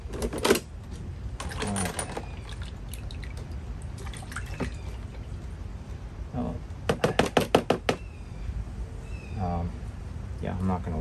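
Metal sockets from a vintage Craftsman socket set clatter and clink as they are handled and dropped, in scattered bursts with a quick rattling run, under occasional talk.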